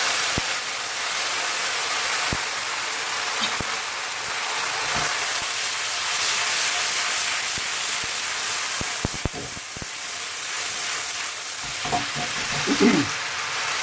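Diluted tamarind and tomato puree sizzling hard in a hot pan of Madras curry base, a dense steady hiss with scattered spits and pops and a stirring scrape near the end, close and continuous with no talk.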